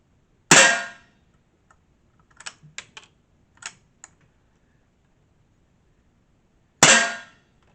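A Stevens Model 87A .22 rifle fires CCI .22 short rounds, two sharp loud cracks several seconds apart, with quiet clicks and metallic handling sounds of the action between them.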